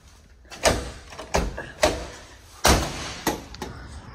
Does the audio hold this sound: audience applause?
no